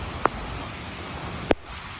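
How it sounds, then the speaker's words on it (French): Heavy rain pours down in Malé, a dense continuous hiss of drops on surfaces with two sharp brief clicks standing out from the roar. "quand il pleut à Malé, il pleut vraiment beaucoup"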